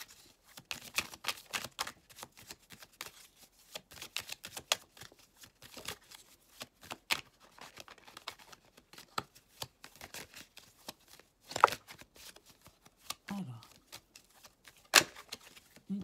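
Cards for a reading are shuffled repeatedly, producing rapid soft riffling flurries and crisp snaps that come in bursts, close and fairly quiet, with a faint bit of voice near the end.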